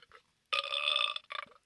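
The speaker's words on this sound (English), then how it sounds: "That's a very wet burp." A wet, gurgling burp erupts close and loud, lasting well over half a second, followed by a shorter second gulping burst.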